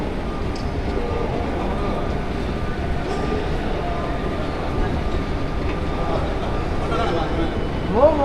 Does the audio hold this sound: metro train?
yes